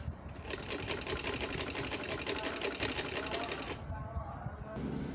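A sewing machine stitches a trouser design in one fast, evenly pulsing run of close needle clatter, then stops and leaves quieter room sound.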